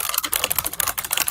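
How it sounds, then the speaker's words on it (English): Rapid, hard keystrokes on a computer keyboard, loud and close, clattering in an uneven stream of sharp clicks with no talking. "Bro, that keyboard. I know he slams the shit out of that thing."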